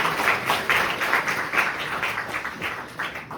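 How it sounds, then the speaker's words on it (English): A tech meetup audience applauds event sponsors, a moderate, dense patter of many hands clapping continuously, steady and somewhat distant, fading slightly toward the end. "give them a round of applause"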